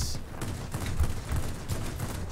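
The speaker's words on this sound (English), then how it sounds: "37mm cannons going ballistic" A Yak-3T fighter's 37mm cannons fire in a flight combat video game, a muffled string of heavy low thuds in quick succession over a dense, rumbling background.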